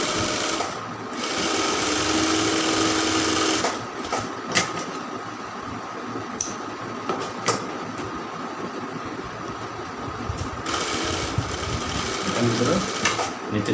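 An electric sewing machine stitches the hem of a round kameez in fast continuous runs, stopping and restarting several times with brief clicks between bursts, close and loud.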